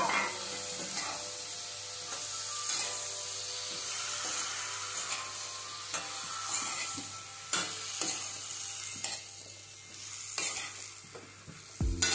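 Vegetables are tipped into a pan of dry fish curry with tomato and stirred while frying: steady sizzling under repeated scraping strokes, close and continuous with no talking.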